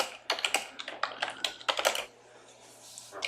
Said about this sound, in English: So you type in your name, whatever that happens to be.